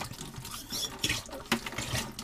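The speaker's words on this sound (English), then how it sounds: "I've got a pump that I use for oil changes and so on, inserting the hose down to the bottom of the tank" Fluid is pumped out of a boat's tank through a hose dropped to the bottom, giving an irregular, close gurgling and sloshing with uneven liquid surges and no speech.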